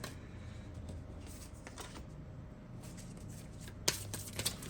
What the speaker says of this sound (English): bear with me on this shuffle here